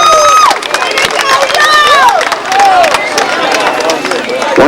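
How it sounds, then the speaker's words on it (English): Crowd applause and cheering for the teams after a youth baseball game, loud sustained clapping with shouts and whistles throughout, mixed with nearby chatter. "Let's give these teams a nice round of applause for a great ball game."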